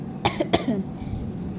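A person with a sore throat coughs two or three times in quick, sharp bursts, followed by a brief throat-clearing rasp, close by against quiet background noise.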